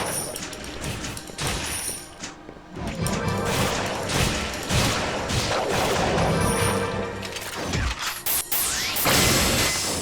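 Guns fire in the video game Raspberry Mash in rapid volleys of sharp blasts and crashing impacts over busy game effects, loud and continuous, with a brief lull early on.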